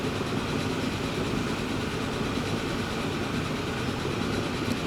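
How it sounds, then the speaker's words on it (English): A train rolling through a forest in the game Transport Fever 2, a steady continuous rumble with faint rail clatter throughout, even in level and uninterrupted, with no voices. "This train is on the way to Rotterdam."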